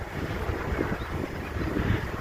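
Steady strong wind buffeting the microphone outdoors while setting up a tarp shelter, a continuous low roar with no pauses throughout.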